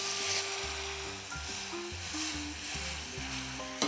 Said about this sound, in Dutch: Kijk, onze karamel begint te gaan. Suiker is gesmolten. We gaan onze balsamico eraan toevoegen.